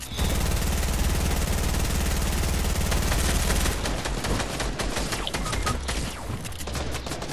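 Shotgun fire in a video game, dense rapid bursts of close, loud blasts layered over a constant roar of in-game action, shots repeating in quick succession throughout without talk.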